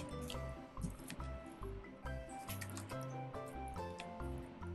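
Raspberries being stirred into cherry jam in a pot: soft wet squishing and dripping sounds under a steady music bed, quiet and close, with no talk.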